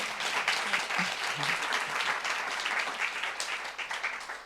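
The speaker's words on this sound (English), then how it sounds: "Can we have a big round of applause?" Steady applause from a crowd at a women leaders summit in Jerusalem, dense and sustained clapping filling the whole stretch at a fairly even level.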